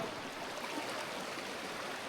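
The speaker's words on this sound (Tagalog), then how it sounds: "So, yung current ng ilog is medyo may kalakasan." A fast-flowing river current rushes in a steady, even wash of water noise, moderately quiet and uninterrupted, with no voices.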